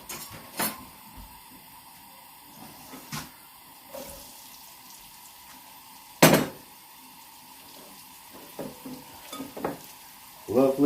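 Garlic fries in a pan with little oil, a faint steady sizzle broken by occasional loud clinks and scrapes of a utensil against the pan.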